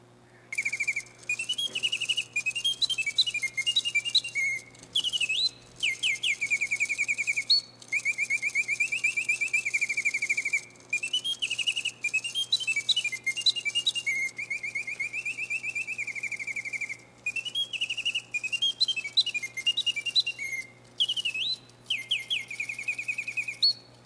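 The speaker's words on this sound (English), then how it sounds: "So that was a singing bird cage automaton made by the Bantams firm." A mechanical singing bird cage automaton by the Bantams firm warbles in repeated chirping, trilling phrases with brief pauses, steady and fairly loud over a faint low hum.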